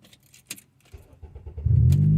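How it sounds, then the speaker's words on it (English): Inside a 2011 Acura TSX, keys jangle and click near the ignition before the engine cranks and catches with a low rumble close by in the final moments. "My car just shut off after I started it."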